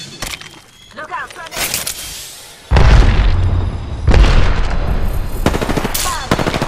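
A grenade goes off in the shooter game Apex Legends: a heavy, booming blast cuts in abruptly mid-fight, surrounded by loud rapid gunfire bursts and a voice in the background.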